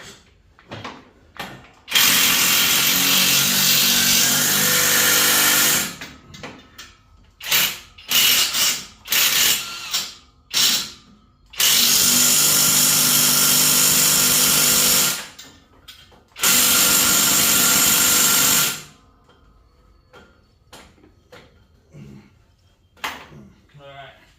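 A socket wrench ratchets close by while a Ford 5000 tractor transmission is put back together, in three long steady runs of rapid clicking broken by shorter spurts and clanks.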